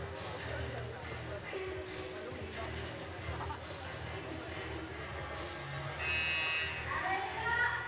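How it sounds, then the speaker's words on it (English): A one-minute warning buzzer sounds near the end at a youth bouldering competition in Guangzhou, a bright sustained tone rising above steady crowd chatter and arena noise. "One minute to go, you might have heard the buzzer."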